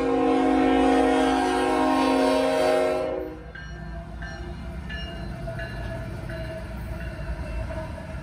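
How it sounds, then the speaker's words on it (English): A loud, sustained CSX freight train horn blares for about three seconds, then cuts off, leaving the low rumble of the passing freight train. "let's get the train horn."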